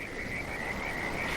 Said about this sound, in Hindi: बारिश के साथ साथ मेंढकों की टर टर और दूर जंगल के भीतर से गूंजती सियार की चीख सुनाई दे रही